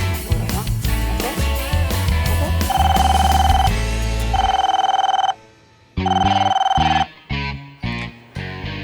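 A phone ringtone plays in repeated bursts with short pauses between rings, loud and close, over a musical backing.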